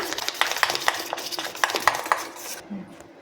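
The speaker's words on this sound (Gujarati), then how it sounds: "બેસનમાં ગાંઠા ના રહે એવી રીતે આપણે બધું મિક્સ કરી લઈશું।" Besan (gram flour) batter being mixed in a bowl for besan shaak, with rapid rhythmic clinks and scrapes of a spoon against the bowl, close and busy, ending in a brief pause.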